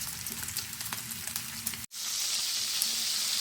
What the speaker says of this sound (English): So I'm going to cook a couple pounds of bacon.